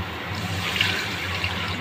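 Water poured into a cooking pan while making Vetki fish kalia, a short steady splashing pour, close and moderately loud with no speech.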